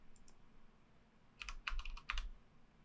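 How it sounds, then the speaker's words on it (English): Keys clatter on a computer keyboard as a short project name is typed into a search field, a faint tap or two early and then a quick burst of close, crisp keystrokes in small clusters. "Let's go ahead and type that into the search field."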